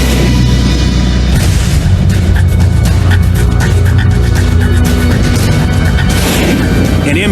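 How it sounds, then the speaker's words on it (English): An Mk-32 Zuni rocket misfires across an aircraft carrier flight deck and strikes an A-4 Skyhawk, producing a loud, continuous roaring blast and booming rumble that stays heavy throughout, without speech. "An Mk-32 Zuni rocket misfires and shoots across the flight deck."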